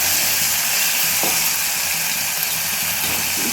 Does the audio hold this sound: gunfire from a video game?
no